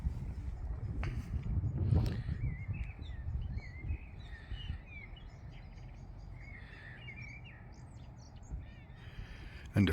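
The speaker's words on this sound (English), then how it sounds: "And of course you can hear the bird song" Birds chirp and call intermittently on West Wycombe Hill at sunset, an open outdoor space, with low wind-like rumble and a few brief louder bursts.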